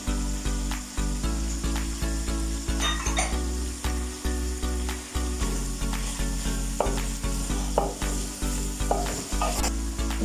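Carrots and green onions stir-frying in a hot pan for chicken Manchurian, loud continuous sizzle with rhythmic scraping and tossing strokes of the spatula, close up and with no talking.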